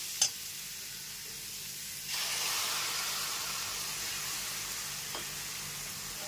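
Tomato paste tipped into onion frying in a pan sets off a steady sizzle that rises in a single step about two seconds in and then holds level, with one brief clack near the start and another near the end.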